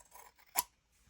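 Scissors cutting paper for junk journal cluster elements, a single short crisp snip near the middle of a quiet moment, close and faint, alone.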